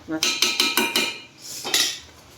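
Spoon scraping and clinking against a pan while paneer curry is mixed, a quick series of sharp, close metallic knocks followed by a softer scrape.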